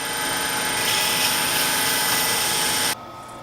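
Loud, steady broadband whirring of a wood lathe spinning a small turned wooden scoop while it is sanded with 220 grit paper, with a continuous hiss that drops off sharply near the end.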